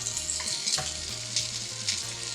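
Small hamburger patties fry in a pan with a soft, continuous sizzle up close, broken by a few brief spits and light pan clatters.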